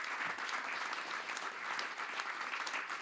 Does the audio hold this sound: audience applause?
yes